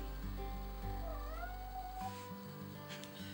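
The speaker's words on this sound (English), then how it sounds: "all the meowing happening in this video" Pet cats meowing indoors, with a few drawn-out, wavering meows rising and falling close by over a steady low hum.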